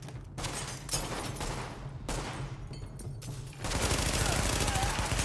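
Assault rifle and submachine gun bursts from The Division video game rattle in rapid fusillades, moderately loud, with a voice speaking over the shooting.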